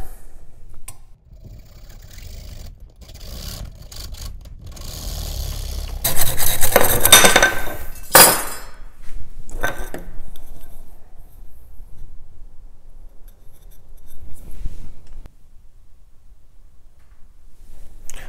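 A drone arm clamped in a vise being sawn, with irregular rasping strokes that grow louder and denser midway, then trail off into scattered scrapes and pauses.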